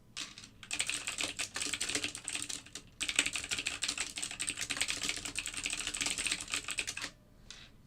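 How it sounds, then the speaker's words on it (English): Loud, rapid typing on a computer keyboard during live algorithmic trading, dense bursts of clattering keystrokes that run for several seconds, break briefly, then resume before trailing off into quiet. "for all the loud typing."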